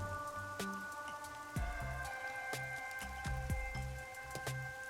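Rain patters steadily in the Rain Code video game, with scattered heavier drops striking a surface in irregular splats over a faint sustained musical tone.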